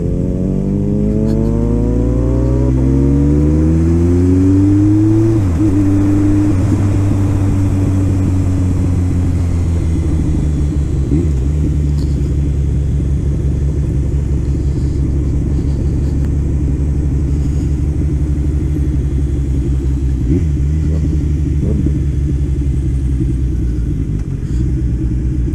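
Race car engines at a WERA motorcycle-style road race in Atlanta roar loudly and continuously, with pitch sweeping up through gear changes early on before settling into a sustained, droning rev that persists throughout.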